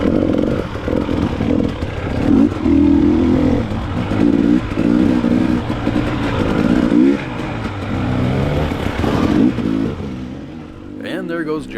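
Dirt bike engines snarl and rev loudly as riders blast past at pace in a hare scramble race, the sound rising and falling continuously through the clip with a brief sharper burst near the end.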